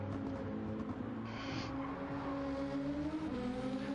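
A race car engine in Gran Turismo at the Sardegna track, a steady high droning whine with shifting pitch, continuous and loud throughout, with no talking.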